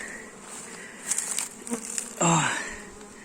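Busy buzzing of honey bees at a beehive during frame work, a soft steady hum with individual bees droning closer and louder in brief passes, no talking heard.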